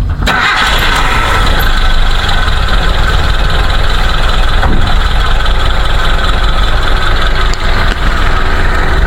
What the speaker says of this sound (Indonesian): Ini suara mesin langsamnya.